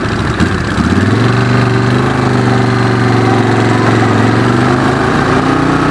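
A Suzuki Desperado 800X V-twin motorcycle engine starts and settles into a loud, lumpy idle with an uneven, throbbing beat, close by and unbroken.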